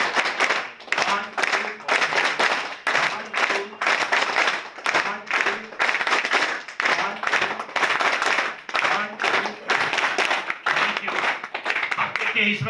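A group claps hands together in a steady, rhythmic pattern, sharp bursts repeating evenly in sets with brief pauses between, loud and close, with a voice speaking over the clapping.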